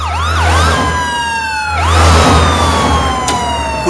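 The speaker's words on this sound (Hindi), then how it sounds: "आज इस गांव में ये सायरन यूं ही नहीं गूंज रहे।" Police and political leaders' convoy sirens wail through a village, several overlapping rising-and-falling tones sweeping loudly and continuously over a low engine rumble, with no talk.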